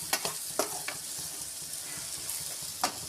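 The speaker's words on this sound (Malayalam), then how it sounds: "നമ്മൾ ഇത് ഇടയ്ക്കിടയ്ക്ക് വെളിച്ചെണ്ണ ഒഴിച്ച് ഇതിനെ റോസ്റ്റ് ചെയ്യുന്നുണ്ട്" Clams roasting in coconut oil in a pan, a steady close sizzle with a few sharp crackles and pops scattered through it, no talking.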